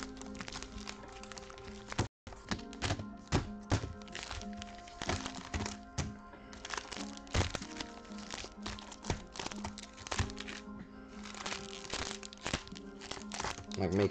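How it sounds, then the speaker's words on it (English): Pokémon trading card packs, including Evolving Skies packs, are shuffled together by hand, giving a steady run of crinkly foil crackles and soft slaps over about fourteen seconds, close and fairly loud with a steady hum underneath. "Let's start shuffling the packs here."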